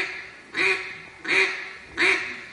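Three loud, nasal mallard duck quacks blown on a hunter's duck call, evenly spaced about 0.7 seconds apart, each one sharp at the start and then trailing off, close and clear with no talking.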